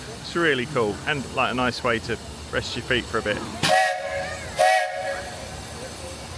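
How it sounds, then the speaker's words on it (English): A steam train whistle at Magic Kingdom's Storybook Circus gives two loud, sustained blasts with a hissing edge, following a stretch of close conversational talk. "That was the train agreeing with me."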